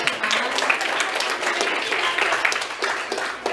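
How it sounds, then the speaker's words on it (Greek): Audience clapping in a room during a school eTwinning history event, steady and fairly loud for a few seconds, with some voices faintly mixed in. "χειροκρότημα."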